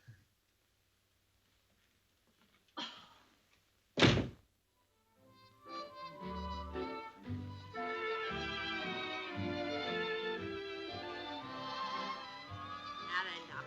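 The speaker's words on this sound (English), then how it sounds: "Now you're opening the door for me." A door is opened in the 1938 comedy fantasy film Topper Takes a Trip, with two solid wooden thunks a moment apart, followed by music swelling up and continuing underneath.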